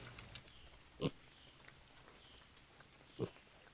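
Two short, low grunts from pigs about two seconds apart, fairly faint over a quiet background.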